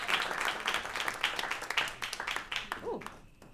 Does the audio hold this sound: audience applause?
yes